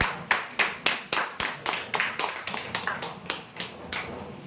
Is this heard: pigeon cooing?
no